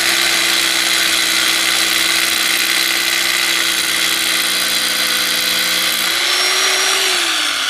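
Rotary hammer drill boring into concrete, a loud steady grinding whine with strong harmonic hum that holds for several seconds, then the motor pitch shifts and winds down near the end.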